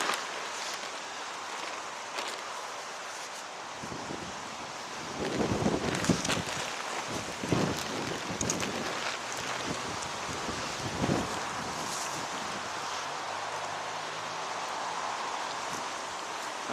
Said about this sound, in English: It is actually quite windy, I'm getting blown away.